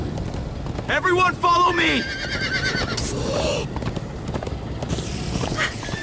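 Horses whinnying and galloping in the Minecraft: Story Mode video game, with neighs and hoofbeats under excited character voices shouting over the ride.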